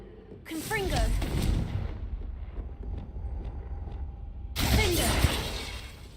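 Confringo fire spell cast in Hogwarts Legacy: a loud crackling, shattering blast that rumbles and fades, followed by a second sharp burst after a short lull.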